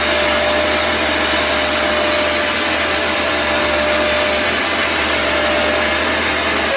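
A loud, steady vacuum suction roar from a Dirt Devil spot cleaner, with a constant motor whine running throughout, close and unbroken.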